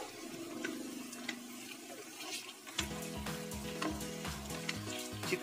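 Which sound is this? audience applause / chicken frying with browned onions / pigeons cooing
chicken frying with browned onions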